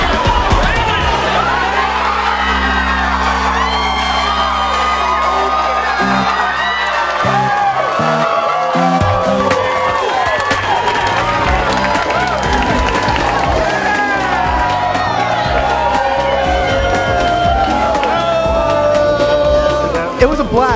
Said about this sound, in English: We've been cheering.